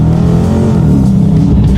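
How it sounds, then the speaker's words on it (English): A 2018 Dodge Challenger R/T Plus Shaker pulls hard under acceleration, its loud, steady V8 roar filling the interior with a dense low growl and rising harmonics, with no voices over it. "let's do a quick little acceleration without the paddle shifters and see how quickly we can get the RT Plus Shaker here"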